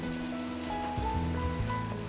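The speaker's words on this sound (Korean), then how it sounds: "봄비가 내리는 5월의 어느 날" Steady spring rain falls on a May day, a soft continuous patter of drops on surfaces with faint background tones, no voices.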